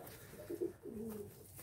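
White pigeons coo softly at a breeding nest, two or three low throaty warbles heard close against a quiet background hiss.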